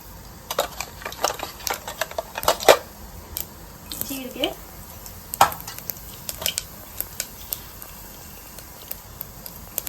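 Mustard seeds sizzle and pop in hot oil for tempering, making sharp, irregular crackles and snaps spread across the whole stretch, with a brief faint voice partway through.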